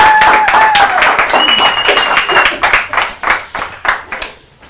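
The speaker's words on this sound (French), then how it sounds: "Un tonnerre d'applaudissements pour Mariam et Yéli." Audience clapping for two participants at a youth sports event, lively close applause with whistles and voices over it at the start, tapering into scattered claps.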